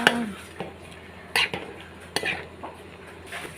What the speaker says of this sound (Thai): ผัดบวบหอมๆค่ะ